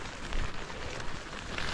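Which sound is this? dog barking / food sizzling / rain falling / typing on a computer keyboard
rain falling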